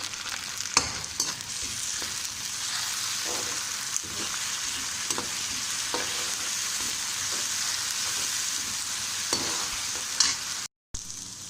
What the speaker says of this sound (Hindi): अब इसके अंदर हम अदरक लहसुन का पेस्ट डाल लेते हैं। इसको भी हल्का सा फ्राई करेंगे।